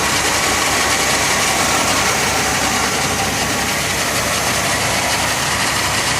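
A 1970 Oldsmobile Cutlass convertible with a 2-barrel carburetor idles smoothly and steadily, a close, even rumble with constant hiss and no voices.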